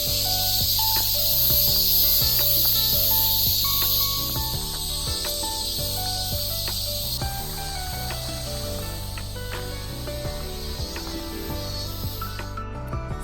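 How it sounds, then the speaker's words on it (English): A loud, dense chorus of cicadas drones outdoors as a continuous high buzzing hiss that swells and slightly recedes, with lower background sounds beneath. "you can hear our symphony of cicadas"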